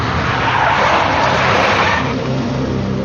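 A big black Mercedes skids in the Max Payne Mobile game, a loud, continuous tire screech over a roaring engine, sustained throughout without any voices.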